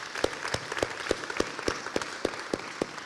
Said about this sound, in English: Let's give Mr. Whitehead another round of applause.